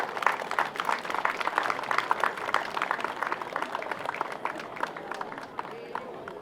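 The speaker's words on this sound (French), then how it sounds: "on peut l'applaudir" Crowd applauding at a Breton horse fair, a steady patter of many hands clapping at moderate distance, gradually thinning toward the end, with faint voices mixed in.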